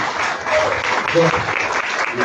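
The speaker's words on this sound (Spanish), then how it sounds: "un aplauso para los que el día de hoy están demostrando precisamente eso" Audience applause at a press conference, a steady wash of clapping from a crowded room with talk mixed in over the top.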